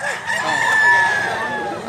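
A McLean Hatch gamefowl rooster, a quality broodcock, crows loudly and close by in one long drawn-out call that holds steady and then trails off.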